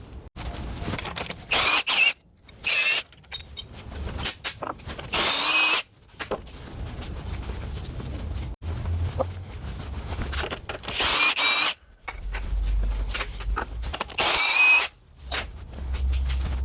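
Power tool on a Tesla Model S P85 loosening the upper suspension link bolts, in loud repeated bursts of a few seconds each with short pauses between, ringing and whirring close by with no talk.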